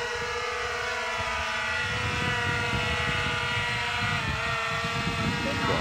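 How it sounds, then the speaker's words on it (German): Ehang Ghost 2.0 quadcopter drone lifting off on its own and climbing, its rotors giving a steady, loud high-pitched whine with layered tonal hum that shifts slightly in pitch as it rises. "Die Drohne geht hoch."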